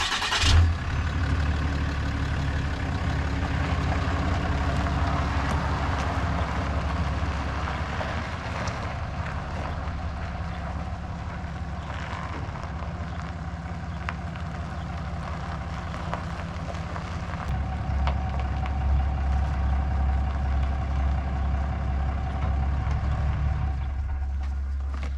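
A pickup truck starts and is driven slowly to line up under a truck camper, its engine running steadily and close by for the whole stretch, rising briefly near the end, with no talk.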